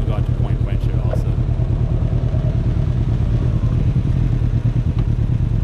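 Can-Am Ryker three-wheeled motorcycle riding near a lake, its engine a loud, steady low drone with wind rumble throughout, heard close from onboard.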